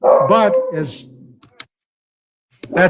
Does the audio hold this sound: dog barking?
yes